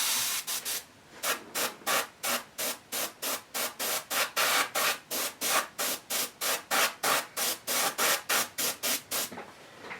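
An airbrush hisses in a long series of short, evenly spaced spray bursts of flesh-tone paint on a garage kit bust, quick and rhythmic, close by with brief silences between.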